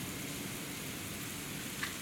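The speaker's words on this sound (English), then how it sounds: "this is a very heavy rain in St." Heavy rain pours on a street in St. Louis as a continuous, even hiss of broadband noise with no distinct drops or talk.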